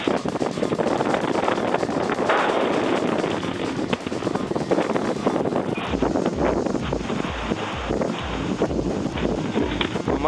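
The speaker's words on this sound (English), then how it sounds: "It's so windy that the tripod actually blew over." Strong wind roars and buffets the microphone continuously at an outdoor rifle range, a loud rushing noise with gusty fluctuations throughout.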